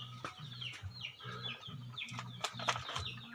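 Chickens cluck and chatter inside a farm coop where a cobra has slipped in, a steady overlapping flock with repeated low calls and brighter squawks, fairly close and continuous.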